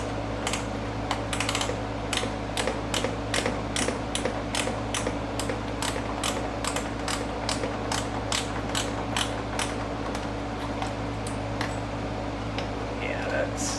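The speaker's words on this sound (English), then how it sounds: "I'm going to try to do my straight ratchet." A straight ratchet works bolts on a C8 Corvette front splitter, giving a long run of evenly spaced, crisp clicks over a steady low background hum.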